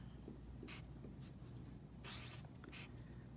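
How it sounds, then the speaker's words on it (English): Short scratchy strokes of a pen or pencil writing fraction division on paper, several brief bursts over a steady low background hum, faint and close, no talk. "Okay, now she's going to write it down."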